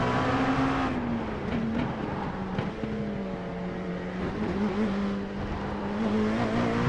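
A race car in iRacing is driven through a complex of corners, its engine note rising and falling steadily through the gears, with loud, close, continuous engine drone and faint tire noise.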